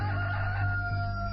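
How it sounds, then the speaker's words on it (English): A rooster crow sound effect rings out once, a sustained, clear, moderately loud call with no talking over it. "Immediately a rooster crowed."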